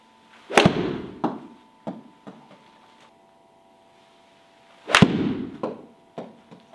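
Two sharp, close impacts of a golf ball struck with a 7 iron, each followed by a few fainter clacks and thuds, with quiet gaps between.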